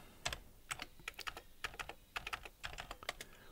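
Typing on a computer keyboard while programming, a close, quiet run of irregular key clicks in short bursts with brief pauses, no voices.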